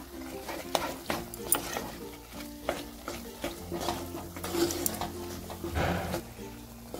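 Paneer pieces sautéed and stirred in a pan for an onion- and garlic-free offering plate, a spoon scraping and knocking against the pan in irregular strokes over a low sizzle, close and continuous, with a faint background voice.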